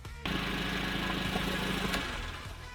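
Herc-U-Lift truck engine cranking and catching at once, then settling into a steady, even idle close by for a couple of seconds before easing slightly.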